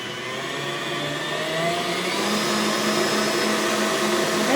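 An electric mixer whirring through cheesecake batter with chocolate syrup, a continuous close motor drone that rises slightly in pitch and loudness partway through, with no voices.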